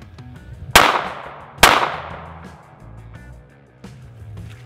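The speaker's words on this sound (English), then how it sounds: "All right, 22 long rifle. Can it defeat the books?" .22 long rifle shots fired at a stack of cookbooks: two sharp, loud cracks about a second apart, each ringing out into a short outdoor echo, followed by faint rustling.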